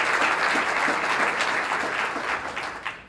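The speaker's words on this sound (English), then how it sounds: "Give yourselves a round of applause." An audience at a women trailblazers program breaks into applause, a full wash of clapping with individual claps standing out, fading somewhat toward the end.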